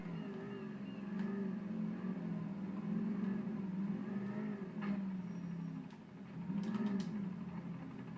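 A fast sports car from the video game GTA 4 drives with a steady, droning engine hum that swells and eases slightly throughout, with a few faint clicks over it and no talking.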